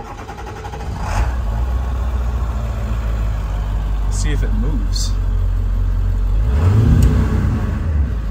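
A 7.3 diesel Ford E-350 4x4 van engine lacking power runs with a steady, muffled low rumble, then revs up near the end, loud and close, with a person speaking briefly over it.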